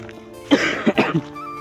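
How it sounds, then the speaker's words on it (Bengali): A person coughs several times in quick succession, close and fairly loud, outdoors during a walk past farm plots of mustard and banana. "কাশি হয়েছে গাইজ, কাশি আমার তো অল টাইমই থাকে"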